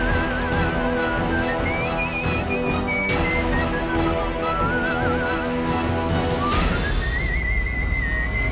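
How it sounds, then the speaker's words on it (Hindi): A melodic whistle glides up and down over a steady tonal music bed, with a sharp swell of sound partway through before the whistle resumes at a higher pitch. "सीटी की आवाज।"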